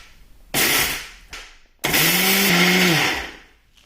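An electric spice grinder pulverizes garlic, chili, cumin and coriander seeds into powder in three loud whirring bursts, the last one longest, close and alone.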